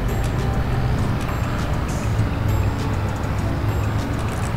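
A weak, underpowered truck engine hauling a timber load in Farming Simulator 22: a steady, heavy, low droning rumble that holds at constant loudness throughout.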